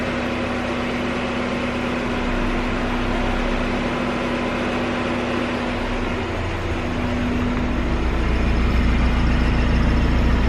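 A project car's engine runs in gear on a dyno, a steady, loud, continuous drone with a constant low hum that swells slightly near the end, with no voices.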